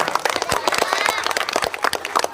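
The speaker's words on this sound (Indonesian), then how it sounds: "Beri tepuk tangannya." Audience applause at a school report-card ceremony, a dense patter of many hands clapping steadily over the whole stretch with crowd noise mixed in.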